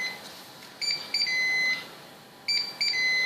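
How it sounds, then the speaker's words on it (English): A Tfal Optigrill GC702 being recalibrated gives three short electronic beeps, clear and close, spaced over a few seconds against a quiet background. "so we heard our 3 beeps."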